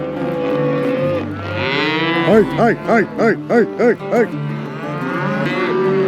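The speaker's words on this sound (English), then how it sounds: "It is a beautiful morning to be moving cattle." Cattle mooing loudly and close during a morning cattle drive in Palo Duro Canyon, Texas, with long low bellows among the herd while a man calls out in a rhythmic series of short shouts.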